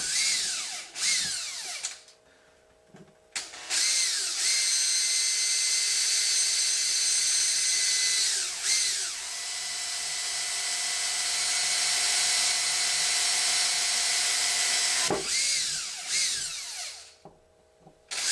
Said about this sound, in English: trying to keep my drill bit as straight as possible. Not pushing it, not trying to drill too fast